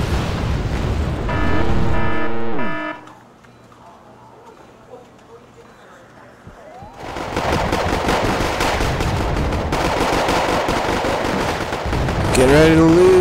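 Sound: gunfire from video game Wargame: AirLand Battle

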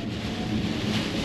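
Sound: rain heard inside electric MG ZS EV while driving

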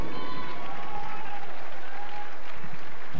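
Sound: audience applause for short track speed skating finalists

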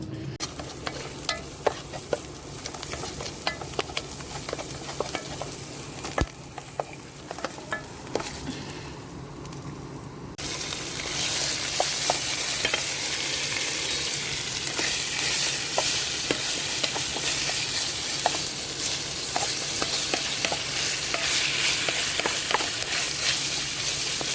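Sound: stir-frying shrimp fried rice

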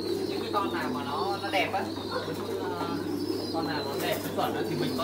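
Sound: pigeons cooing

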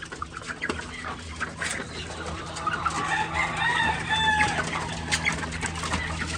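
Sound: heritage breed rooster chicks clucking and crowing

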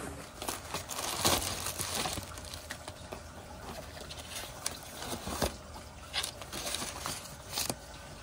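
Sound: opening a box of coins

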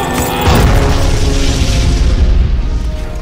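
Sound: explosion sound effect in Blake 7 audio drama

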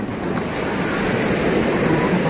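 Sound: ocean waves at Caletilla beach

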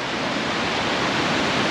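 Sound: mountain waterfall rushing

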